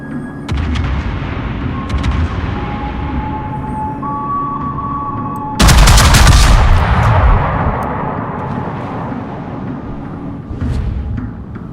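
Warship guns fire in the naval combat video game World of Warships, with a heavy, booming salvo that rolls out into a long rumble against a background of droning engine noise and faint electronic tones.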